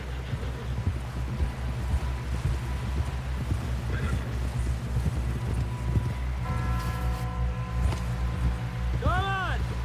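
Horse galloping in the video game Red Dead Redemption 2: rapid, rhythmic hoofbeats over wind and ambient noise, with voices talking and a brief tonal sound near the end.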